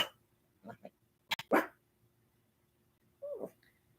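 A few short, sharp dog barks in quick bursts, nearby in snow, separated by quiet pauses, with a final softer yelp.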